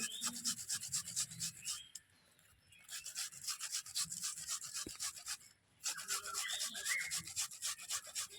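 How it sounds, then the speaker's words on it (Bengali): Onion being grated by hand for a spice paste, a steady, close, scratchy rubbing in quick back-and-forth strokes that pauses briefly twice, fairly quiet, with no voices. "পেঁয়াজটা ঘষে মশলার ভিতরে দিয়ে দেবো"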